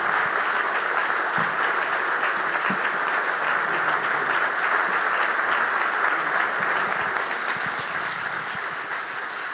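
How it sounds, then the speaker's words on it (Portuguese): Dense, sustained applause fills a church hall during a convention service, a loud, steady wash of many hands clapping at once that tapers only slightly toward the end, with no talk over it. "Aplaudindo a Deus carinhosamente pela tua vida, pelo teu ministério,"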